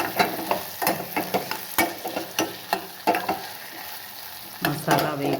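Masala spices fry in a pan while being stirred with a series of sharp scraping strokes over a soft sizzle, with brief pauses between the strokes.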